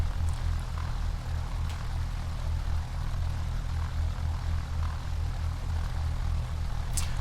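Propeller aircraft engine idling and rumbling steadily while taxiing onto a runway in the flight simulator game X-Plane 10, a constant low drone with no talk.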